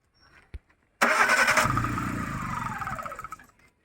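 A used Chevrolet car's engine cranks and fires after a faint click, catching abruptly into a loud idle with the throttle body coupler disconnected, then gradually fading as it settles and cuts off.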